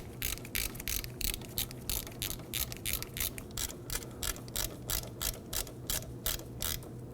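Ratchet snugging down brake caliper bracket bolts on a 2008 Ford Focus, a steady run of quick evenly spaced clicks in short rhythmic strokes, close but fairly quiet.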